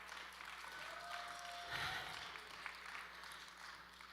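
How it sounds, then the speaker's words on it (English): Audience at a showcase event clapping for a speaker, a soft, distant smattering of applause over a low room hum, swelling briefly near the middle before settling. "Everyone, a big round of applause for James Still."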